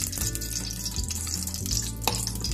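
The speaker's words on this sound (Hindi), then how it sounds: "इसमें मैं करीबन 2 टेबलस्पून घी डालूंगी।" Ghee going into a pot heating on a gas stove at medium flame, giving a continuous close crackle and low rumble with faint scattered clinks and no talking.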